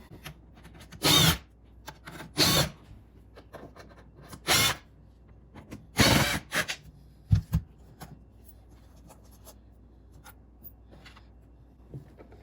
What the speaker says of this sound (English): this front panel just held in with some screws, so we're going to take those out